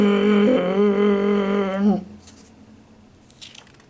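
A voice imitates a lawn mower, producing a steady buzzing, zooming drone for about two seconds before stopping abruptly into near silence.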